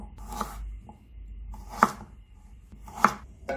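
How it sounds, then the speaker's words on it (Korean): Carrots being chopped with a knife for a nutritious rice dish, a few distinct, fairly close knife strikes on a cutting board spaced about a second apart in a quiet kitchen. "당근도 먹기 좋게 썰어줍니다."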